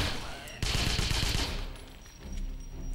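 Rapid bursts of enemy gunfire in the video game Wolfenstein (2009), a dense crackling volley starting abruptly and rattling for about a second, then fading before more low shooting returns.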